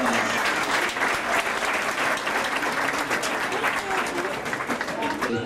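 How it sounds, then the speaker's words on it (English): Sustained audience applause fills an outdoor zoo animal show at the Cincinnati Zoo, a dense, steady wash of many hands clapping at even loudness from start to finish, with faint crowd murmur underneath. "Let's give him a big round of applause."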